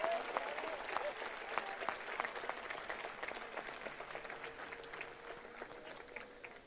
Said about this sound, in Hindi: ये नस्ले नौ के तमाम शायरों के लिए आप एक दफा तालियां बजाइए